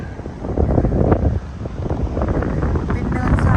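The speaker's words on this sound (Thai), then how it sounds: "ลมนะคะ" Strong wind blows across sand dunes in Gran Canaria, a steady loud roar with heavy buffeting on the microphone throughout.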